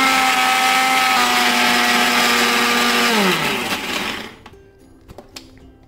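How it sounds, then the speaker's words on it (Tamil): A mixer grinder whirs loudly and steadily grinding ginger into paste, its motor pitch then dropping as it winds down and stops, followed by a few faint clicks and knocks. "இதுக்கப்புறம் தான் நம்ம நல்லா நைஸாக அரைக்கணுங்க"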